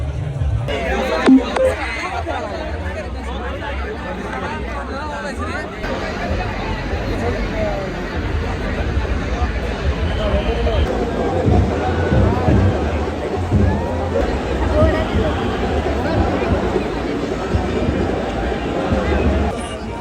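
Dense crowd babble at the Kolhapur Mahalakshmi (Ambabai) temple procession, a continuous loud murmur of many overlapping voices with shuffling movement throughout.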